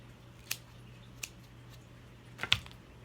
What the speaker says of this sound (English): snip a little portion of it. Make sure it's even.